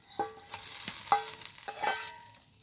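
Gravy with fried pointed gourd simmers at a boil in a pan, a quiet spread of irregular bubbling pops and soft splutters, close by and with no voices.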